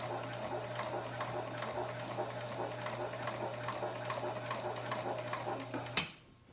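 A Janome HD9 sewing machine stitches a seam in a steady, fast mechanical hum with a rapid needle rhythm, running loud and close for about six seconds before stopping abruptly.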